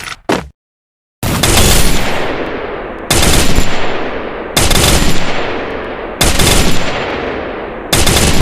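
Rapid gunfire from the mobile battle royale game Free Fire, in a custom match: a short crack, a brief silence, then five loud, dense bursts of automatic fire, each starting abruptly and slowly thinning out, close and with no talking.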